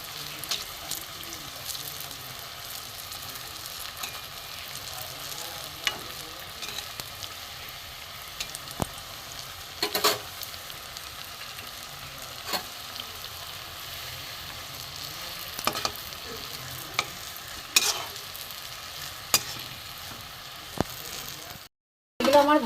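Egg-shaped pieces of raw banana (kaachkola) frying in oil and being turned, a continuous sizzle broken by sharp clicks and scrapes of a spatula, with a short silence near the end.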